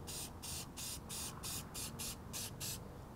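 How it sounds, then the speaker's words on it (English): An aerosol spray can is sprayed onto a cloudy solar light panel in a series of about ten short hissing bursts, close and fairly loud, separated by brief pauses. "shake the can up real well, and then just give the top of the panel a good spray"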